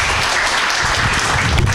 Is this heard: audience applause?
yes